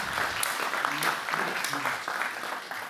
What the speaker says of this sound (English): a big applause to the members